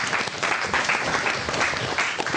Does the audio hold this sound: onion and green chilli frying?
no